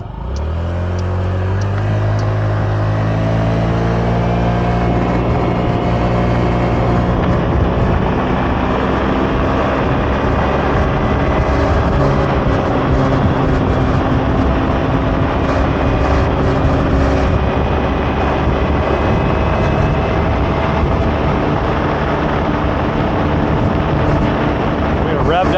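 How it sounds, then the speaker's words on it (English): A 2002 Honda Metropolitan II scooter fitted with a Polini Hi Speed variator runs downhill, its small engine droning loudly and rising steadily in pitch as speed builds, then holding a constant high whine with wind noise throughout. "We'll see how fast we can get the scooter up to."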